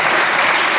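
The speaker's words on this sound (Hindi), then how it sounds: "ताली बजाइए" Applause from students at a school gathering in Bhopal, a dense continuous patter of clapping hands, loud and close, lasting under a second.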